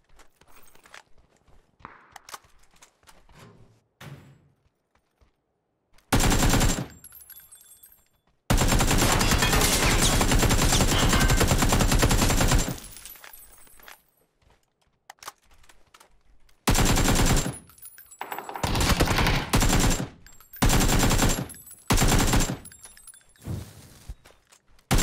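Automatic gunfire in the battle royale shooter PUBG, with long sustained bursts and shorter volleys separated by quieter stretches of movement and faint footsteps, loud and close.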